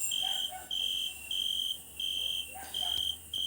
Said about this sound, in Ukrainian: десь на винограді сюрчок сюрчить